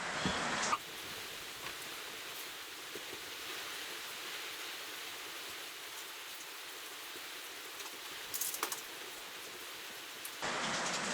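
Steady rain falls outside a garage workshop, a dense even hiss that holds at the same level for about ten seconds, with no voices.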